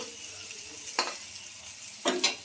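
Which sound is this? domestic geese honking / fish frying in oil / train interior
fish frying in oil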